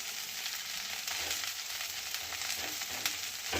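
Broccoli sizzles steadily as it is stirred and sautéed in a pan for a Gujarati-style broccoli paneer sabji. The frying hiss is continuous and close, with soft scraping from the stirring and no talk.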